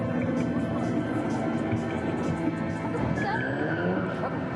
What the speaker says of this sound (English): that was a tire squeal